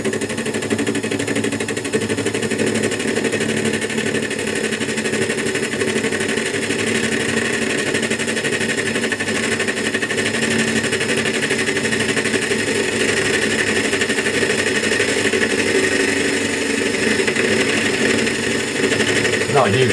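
A lathe with a carbide-tipped tool takes a facing cut across metal, giving a steady loud grinding, humming drone throughout in a home shed workshop.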